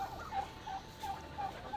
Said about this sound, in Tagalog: Oh, mga manok.